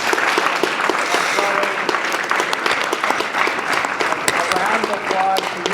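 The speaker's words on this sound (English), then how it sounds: "let's please give a round of applause" A conference audience claps in sustained, dense applause for a session on the Sequoias to the Sloughs framework, loud and close, with voices murmuring underneath.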